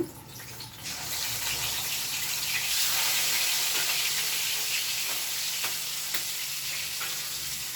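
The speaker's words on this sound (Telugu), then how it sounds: "సాల్ట్ వేసేసి ఫస్ట్ ఎగ్స్ కొంచెం ఫ్రై చేసుకోండి" Eggs fry in oil seasoned with salt and turmeric for a tomato egg curry, giving a steady close sizzle that swells after the first second and holds even, with faint stirring clicks and no voices.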